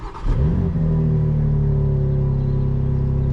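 A 2023 BMW X4 M Competition's twin-turbo straight-six engine starts with a brief rev, then settles into a deep, steady idle rumble, loud and close, with no voices.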